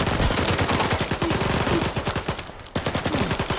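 Rapid bursts of automatic gunfire in the video game S.T.A.L.K.E.R. 2, loud and continuous, with dense rattling volleys and a brief pause before shooting resumes.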